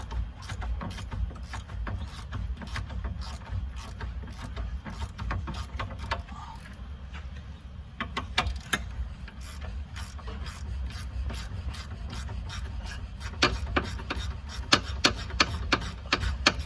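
Ratcheting clicks from a wrench loosening a 10mm bolt on the valve block of a Mercedes S-Class W221 air suspension, heard as irregular close bursts over a steady low hum.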